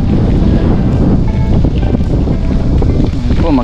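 Strong wind after rain buffets the microphone with loud, continuous low rumbling and gusty roar throughout, with faint voices beneath.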